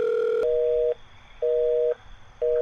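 A telephone busy signal on an unanswered call: a loud, steady beeping tone that pulses on and off at a regular interval, each beep lasting about half a second, heard alone.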